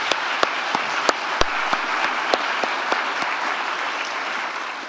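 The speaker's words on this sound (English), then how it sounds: "Could we have a round of applause for all of our supporters?" An evening event audience applauds the supporters with steady, full clapping, a few sharper individual claps standing out, fading slightly toward the end.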